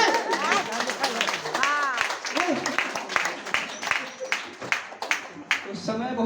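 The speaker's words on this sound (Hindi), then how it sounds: "ठोको ताली तरफ से।" An audience at a health-product meeting claps in bursts of applause, loud and close, with voices and chatter running through it.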